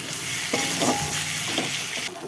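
Cumin powder and a bay leaf fry in hot oil with a masala nearing done, giving a steady close sizzle with brief stirring scrapes and no voices.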